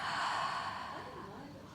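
During a guided breathing exercise, one long, steady breath of air streams close and fairly loud, then slowly fades over a couple of seconds.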